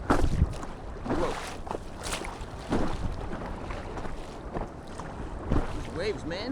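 Choppy river waves slap and splash around a stand-up paddleboard under steady wind noise on the microphone, with someone talking over the water sounds.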